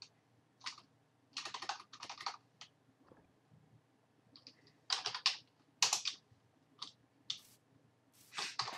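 A computer keyboard is used to type a command while setting up a Spigot 1.9 Minecraft server; close, crisp keystrokes arrive in quick irregular bursts separated by short pauses, with no one talking.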